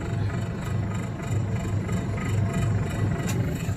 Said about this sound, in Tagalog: yan po yung blower niya sa baba, yung sa condenser